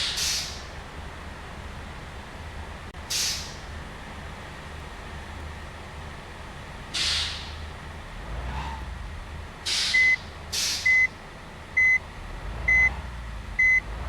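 Bus reversing onto a main road on a hill, its reversing beeps chirping repeatedly at a steady pace near the end, heard over faint engine rumble with a few sharp hisses of air brakes earlier.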